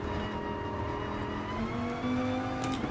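A Viper GR.4 race car engine in GT Sport drones steadily while slowing for a turn in second gear, its tone shifting partway through as the revs change, with no talk over it.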